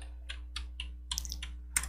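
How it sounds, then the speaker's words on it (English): Short command typed on a computer keyboard running calculator software on Arch Linux: a handful of soft, close keystrokes over a steady low electrical hum. "So let's just type in calc and then"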